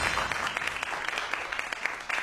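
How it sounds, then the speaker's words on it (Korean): A short burst of audience applause, many hands clapping quickly and densely, steady and fairly close throughout. "큰 박수로 맞이해 주세요."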